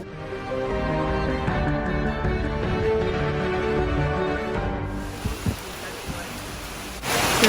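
Heavy rain pours down over a mountain village above the clouds in Sri Lanka, a dense steady hiss that swells louder near the end, with a mix of other sounds beneath it in the first half.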